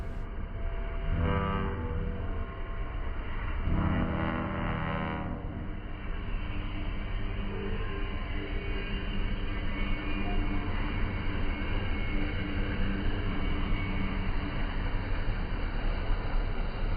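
BNSF freight train rolling past, its horn blaring in a couple of loud blasts near the start over a steady, continuous rumble of rail cars that carries on to the end.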